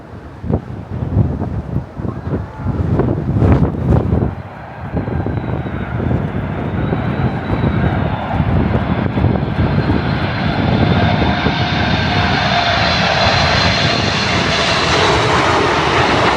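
A jumbo jet airliner coming in to land in London gives off a loud, steady engine roar with a whine that rises slowly, while wind buffets the microphone in the first few seconds.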